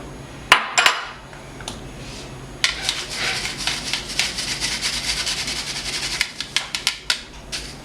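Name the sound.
mixing sieved sugar, baking powder and baking soda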